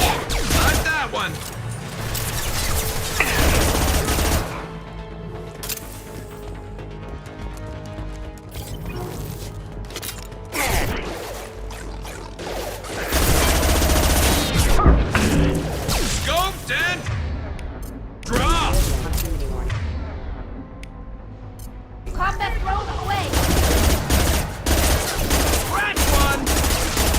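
Rifle fire in the video game Mass Effect 2, bursts of loud gunshots alternating with quieter stretches of mechanical clatter and game ambience, the firing returning in several heavy waves.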